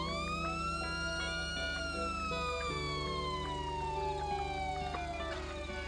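A toy police-version Mahindra Bolero sounds its electronic police siren, a steady wailing tone that sweeps up and down over a constant electronic hum for about six seconds, close and clear with no talking.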